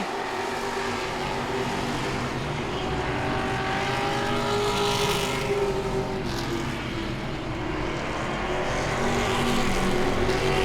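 Grand Stock cars race at Langley Speedway, their engines blending into a continuous loud roar that swells and fades as the pack sweeps around the oval.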